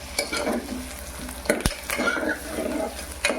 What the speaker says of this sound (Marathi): आता आपला कांदा शिजत आलाय